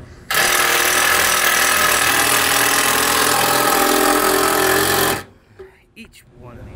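A power tool drives a self-tapping screw into a blower bracket on a commercial rooftop HVAC unit, giving one loud, close, continuous whirring run of about five seconds that stops abruptly, followed by a few faint clicks.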